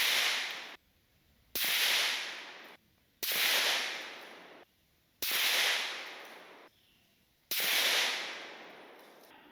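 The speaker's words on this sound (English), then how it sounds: "throwing the suppressor back on, put another 5 rounds through it" A .308 bolt-action rifle fitted with a Silencerco Velos LBP suppressor fires five rounds of Hornady 168 grain ELD Match, each a sharp muffled crack with a short decaying hiss, evenly spaced about one and a half seconds apart.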